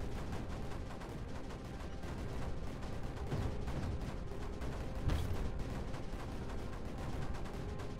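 A super cannon fires in the strategy game Creeper World 4 over a dense, rumbling battle din, with rapid repeated blasts and a couple of heavier booms standing out.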